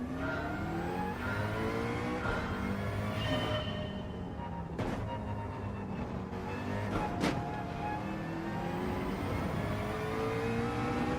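A McLaren mid-engine car in Gran Turismo 7 drives on track, its engine note rising and falling through repeated shifts and revving sweeps, with a steady loud drone throughout and no talking.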